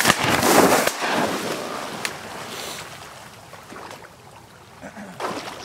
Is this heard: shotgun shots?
yes